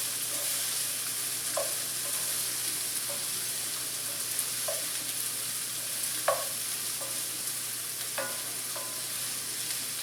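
Sliced sweet onions, Medallion variety, sizzle softly in a pan as they caramelize, a quiet steady fry broken by occasional stirring clicks, with no one talking.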